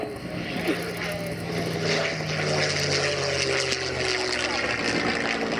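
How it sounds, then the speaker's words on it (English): Merlin V12 engines of P-51 Mustang and Spitfire warbirds drone past in a flyby, a steady propeller roar building slightly louder over a few seconds with some background wind noise. "to listen to the sound of these Merlin engines"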